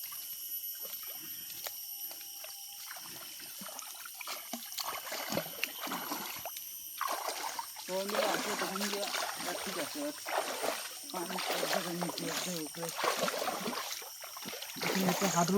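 Water rushes along the rocky Giri Chhara hill stream in a continuous outdoor flow, with splashing that grows louder in the second half as voices talk over it.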